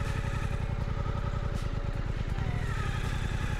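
A Suzuki GSX-8R sits in gear with no throttle, its engine thrumming with a steady low, rapid pulsing rumble throughout, close and constant, with no voices.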